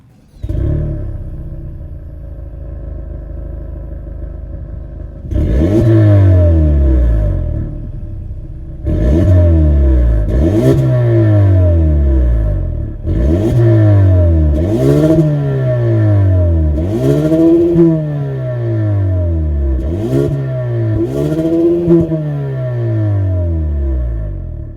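A 2024 Hyundai Sonata N-Line's 2.5-liter turbo four-cylinder engine idles, then revs repeatedly in sharp bursts that climb and fall, loud and close with a steady rumble between blips.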